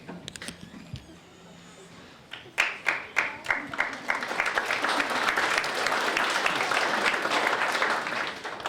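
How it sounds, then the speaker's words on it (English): Graduation ceremony audience bursts into applause after quiet murmuring; a few sharp distinct claps build quickly into sustained, dense clapping from a large crowd in a hall. "How about another round of applause for him?"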